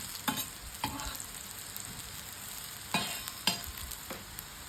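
Food being stirred and sautéed in a pan over a low flame, a soft continuous sizzle punctuated by crisp spatula scrapes in small clusters, close and clear with no speech.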